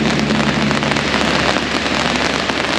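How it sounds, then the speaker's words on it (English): Steady rain falling around a red square-towered breakwater lighthouse at a harbor entrance, pattering loudly and continuously on an umbrella overhead, close and dense with no pauses. "It's currently raining, so we're under an umbrella."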